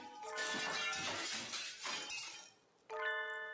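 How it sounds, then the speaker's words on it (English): A glass object shattering with a crash in the video game Hatoful Boyfriend Holiday Star, a loud burst of breaking glass with ringing tinkling tones that fade, then a second bright chiming ring, no speech. "Some glass object splinters with a monumental crash behind us as we make for the exit."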